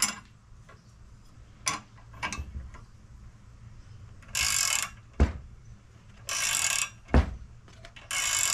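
A socket ratchet turns a swingarm bolt on a 1984–2017 Harley-Davidson Softail, giving close ticking clicks in a few brisk bursts between quieter handling sounds.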